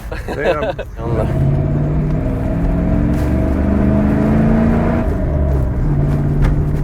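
A 230-horsepower Dodge Ram pickup engine idles with a deep rumble and rises into a sustained rev, holding loud and close after a short burst of noise at the start.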